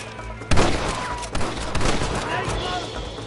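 Gunfire from a shootout in the Western video game Red Dead Redemption, with a salvo of loud close shots and further scattered bursts amid game ambience and voices shouting.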